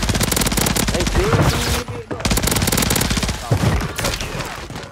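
Rapid machine gun fire in Call of Duty Warzone, loud continuous bursts of shots with a short pause mid-way, a voice faintly heard under the gunfire.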